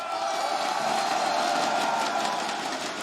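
A French crowd at an ESL Pro League Season 9 esports semi-final in a large arena roars continuously, a dense sustained wall of cheering and whooping that holds steady loudness throughout.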